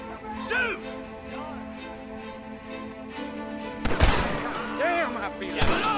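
Gunfire in the Western video game Red Dead Redemption: a couple of sharp broadband shots crack out near the end, amid shouting voices and background clutter; the first part is mostly talk and ambience.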